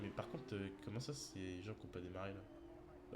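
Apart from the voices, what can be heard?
No distinct noise like a dog, phone or traffic.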